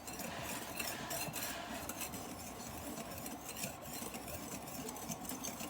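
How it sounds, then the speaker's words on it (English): Pumpkin bread ingredients with pumpkin pie spice are whisked together in a bowl, giving a continuous quiet scraping and stirring rattle that stays even and close with no talk over it. "we're going to whisk this all together"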